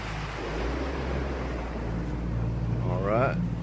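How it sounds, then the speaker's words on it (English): A small boat motoring in the middle of a river just downstream of a ferry gives a continuous low engine drone with water and wind rush, and a brief voice is heard near the end. "So let me take the boat here in the middle of the river."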